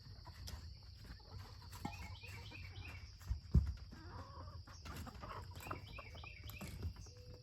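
Chickens cluck and murmur around a farmyard with a steady low background hum, one brief louder squawk standing out midway.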